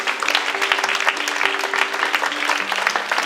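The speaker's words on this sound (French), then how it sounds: "On peut les applaudir, on peut s'applaudir" Audience at a Rotary Club art exhibition inauguration in Reims clapping steadily, a dense, even patter of many hands sustained throughout with a faint voice underneath.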